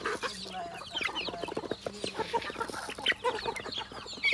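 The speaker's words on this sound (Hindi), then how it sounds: "ये बहुत हिम्मत वाला मुर्गी है, अंदर घुसते साला घर का।" Chickens cluck repeatedly in short, irregular bursts, fairly close by in an Arunachal village, with scattered rustling and background noise throughout.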